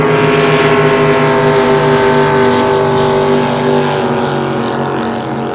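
A loud solar-powered racing boat roars steadily at close range during a Pro Stock heat at Moses Lake, its pitch sliding slightly as it passes and begins to fade.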